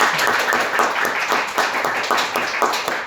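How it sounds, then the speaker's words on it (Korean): A room full of people applauds, dense clapping sustained steadily for a few seconds at close range. "자 박수 한번 쳐드리죠."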